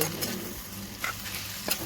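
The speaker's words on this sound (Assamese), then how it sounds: "এয়া প্ৰায় পেটু ভাজিখিনি হৈ উঠিলে" Tripe fries in a pan with a close, steady sizzle, broken by quick scraping strokes of a spoon stirring the pieces.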